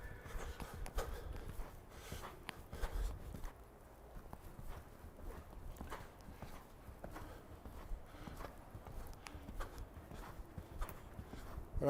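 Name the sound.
horse cantering, hooves clip-clopping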